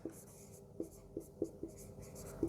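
Chalk or marker taps and scratches across a board during a class on resistors in parallel, making short irregular strokes about every half second under a quiet room tone.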